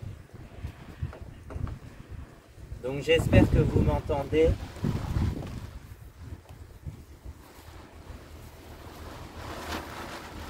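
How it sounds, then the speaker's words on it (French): Wind rumbles and buffets the microphone throughout, loud and continuous, while someone talks over it for a few seconds midway. "y a du vent"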